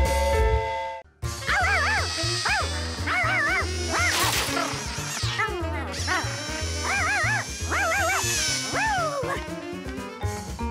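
A dog in a Polish-dubbed Curious George cartoon barks and yips repeatedly, mixing sharp barks with whiny, high-pitched yelps in an uneven rhythm over roughly ten seconds.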